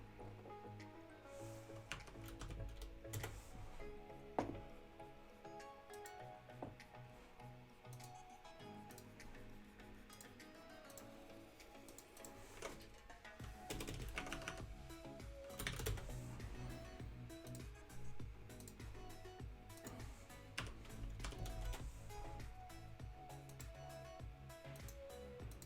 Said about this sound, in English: press on the keyboard slowly